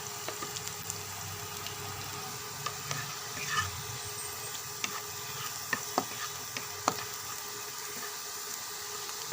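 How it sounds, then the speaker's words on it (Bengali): Garlic frying in oil for a simple jute leaf (pat shak) dish gives a faint, steady sizzle. Scattered light clicks and scrapes of stirring run through it, with no talking. "রসুন ভাজা হয়ে গেছে"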